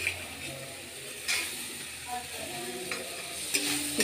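Peas being fried in a pan, a soft sizzle with a few clinks and scrapes of a spoon stirring, close by, with faint traces of a voice.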